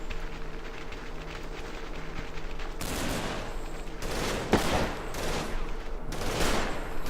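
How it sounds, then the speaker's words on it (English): Gunfire in Combat Mission strikes a position holding an AA gun, with loud bursts of fusillade erupting over a constant background rumble, one sharp crack standing out among the volleys. "They're firing on the position where that AA gun seems to be."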